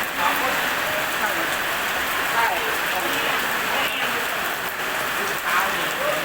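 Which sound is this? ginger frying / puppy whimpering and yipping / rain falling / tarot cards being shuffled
rain falling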